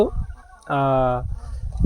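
A country hen on a poultry farm gives a single drawn-out cluck-like call close by, with faint rustling and low background noise before and after.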